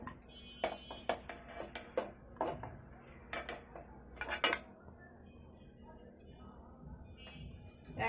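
Boiled potatoes are lifted out of a pan of oil one by one, giving a series of faint, sharp metallic clinks and scrapes of utensil against pan at a steady pace, then quieter kitchen background.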